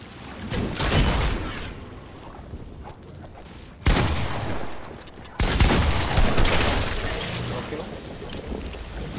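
Bursts of arrow impacts and structures breaking apart in a building arena shooter, a dense clattering barrage with sharp crashes near 4 and 5.5 seconds, loud and close throughout.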